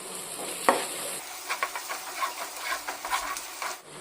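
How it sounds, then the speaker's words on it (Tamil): Turmeric and Kashmiri chili powder sizzle steadily in hot oil for an egg drop thokku, with a spoon scraping and stirring through the pan in repeated soft strokes, close and continuous. "இப்போ இதில் 1/4 டீஸ்பூன் மஞ்சள் தூள், 1 டீஸ்பூன் காஷ்மீரி மிளகாத்தூள், இது 2ஐயும் சேர்த்து எண்ணெயில் நல்லா வதக்கிக்கிடுவோம்."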